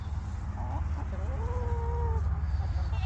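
New Hampshire chickens, a standard-size rooster and hens, give a few drawn-out clucking calls over a steady low farmyard rumble.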